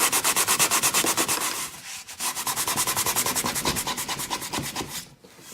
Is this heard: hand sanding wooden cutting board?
yes